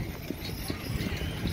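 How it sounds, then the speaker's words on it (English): A team of Percheron horses pulls a wagon, hooves clip-clopping in a steady rhythm at moderate distance against constant outdoor background noise. "Percheron horses. We have a different team now hooked up to the wagon."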